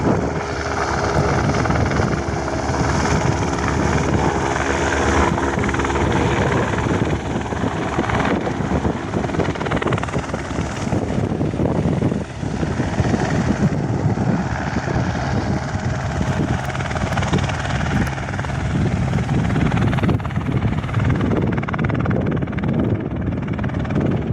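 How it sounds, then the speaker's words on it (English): An Airlink ATR 72-500 turboprop bound for Perth roars continuously on a windy day, a loud broadband engine and propeller drone with low tonal hum and wind buffeting throughout. "Airlink ATR 72-500 going to Perth"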